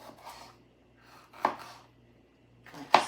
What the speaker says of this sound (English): So just nice big slices of this pepper